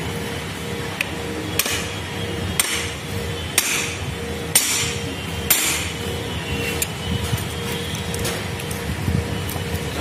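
Regular metal hammer blows drive the 5th gear onto the shaft of a Volkswagen Polo gearbox during repair, sharp strikes landing about once a second over a steady workshop background.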